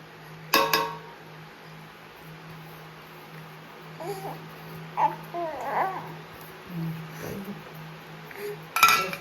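A spoon stirs ghee payasam in a pot on the stove, giving a few sparse metallic clinks and scrapes, loudest near the start and end, over a faint background hum and some quiet murmuring.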